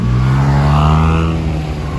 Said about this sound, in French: Porsche Carrera GT.